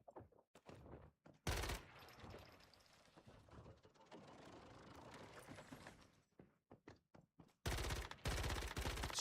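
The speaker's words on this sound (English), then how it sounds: "It's shooting like my P90 does. And it's shooting super fast." Rapid automatic gunfire from a weapon in the survival shooter Once Human, loud sustained bursts at the start and end with a stretch of quieter mechanical clatter between.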